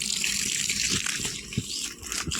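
Water gushes steadily from a pipe or tap into a farm tank outdoors, a continuous broadband rush with a few small splashy bumps and no talk.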